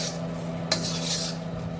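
A spoon scrapes and stirs dal roasting in a pan with ginger, making a steady gritty rubbing sound with a sharp metallic click partway through, over a low hum.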